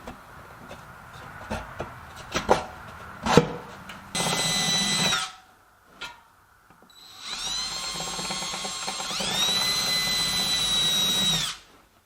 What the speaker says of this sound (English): I'm going to be using an even smaller drill bit to pre-drill the wood